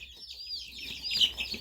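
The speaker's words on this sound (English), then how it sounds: "I'll show you what type of chickens we have." Egg-laying hens in a coop cluck and squawk steadily, with several close, overlapping bird calls growing busier toward the end.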